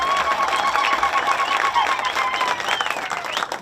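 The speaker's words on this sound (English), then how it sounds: "can we give a round of applause to the chief guest, PS Dr. Omaolunga" A crowd applauds the chief guest at a hospital ceremony in Nyeri, steady clapping and some cheering sustained throughout, fairly loud and even, with faint voices mixed in.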